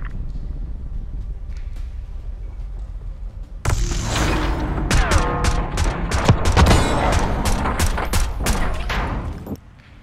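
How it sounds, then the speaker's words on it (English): Call of Duty Black Ops 6 gunfight: after a quiet start, a sudden dense burst of rapid automatic gunfire and explosions erupts, loud and sustained for several seconds before cutting off. "Gunfight."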